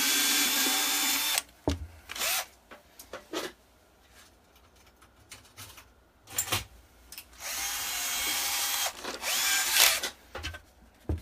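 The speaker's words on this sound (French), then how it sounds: "le premier trou je le fais avec la même mèche de 3" A power drill with a 3 mm bit bores a hole in a pre-drilled part, heard as several loud whirring bursts of a few seconds each, separated by quiet pauses and short clicks.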